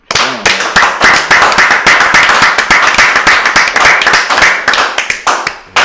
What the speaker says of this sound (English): Clap it up for the Lord.